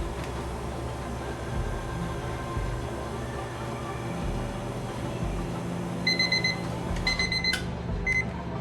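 A coffee machine's timer alarm beeps in short repeated bursts during a cleaning cycle, rising over a steady low hum of running machinery near the end.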